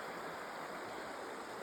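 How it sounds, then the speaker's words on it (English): Sapillo Creek on the Continental Divide Trail in New Mexico, heard beside a trailside campsite, rushes steadily: a close, even wash of flowing water with no pauses and no voices. "This is Sapillo Creek."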